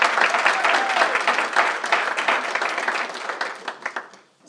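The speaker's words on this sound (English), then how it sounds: "You deserve a round of applause" An audience at a business alliance meeting gives a round of applause honoring a conservatory foundation president; brisk, close clapping holds steady for several seconds, then thins into scattered claps and fades out.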